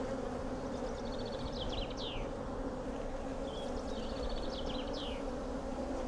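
Honeybee drones buzz around an open hive, with a continuous low hum of many wings and a few nearer whining passes as individual bees fly close by.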